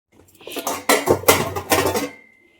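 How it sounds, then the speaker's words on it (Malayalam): Metal idli steamer pot handled in a home kitchen, with a few close clanks and clinks of metal vessel parts knocking together over about two seconds, no talk. "ഞാനുണ്ടല്ലോ ഒരു ഇഡ്ഡലി പാത്രം എടുക്കാൻ പോവാണ് കേട്ടോ"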